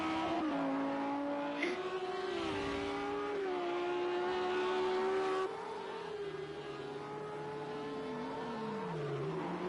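A race car engine in Project CARS 2 at Circuit Zolder, held at high revs with the pitch stepping up through gears under hard acceleration, loud and close, a brief drop in tone midway before climbing again, then easing down near the end.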